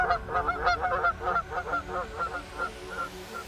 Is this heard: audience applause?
no